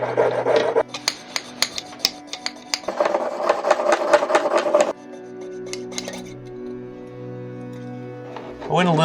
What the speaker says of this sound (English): I will cut it off with the jeweler's saw